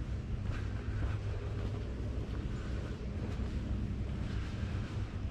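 A creek flows beside a wooded trail in autumn. Its rushing water makes a steady broadband wash with a low rumble, close by, continuous and unbroken, with no voices.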